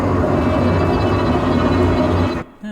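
Infernus Strings sample library ensemble playing a tremolo articulation, a loud, dense, continuously trembling string texture sustained for over two seconds, then stopping sharply.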